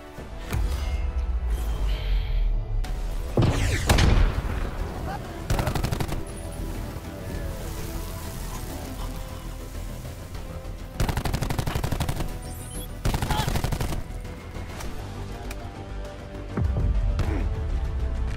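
Call of Duty gunfire comes in repeated loud automatic bursts separated by quieter stretches, with a steady game backdrop running underneath throughout.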